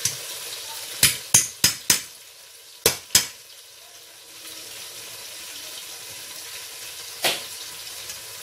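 Washed moong dal frying in a pan with turmeric, a low sizzle under a run of sharp metallic knocks and scrapes from stirring, then a quieter steady fry with one more knock near the end.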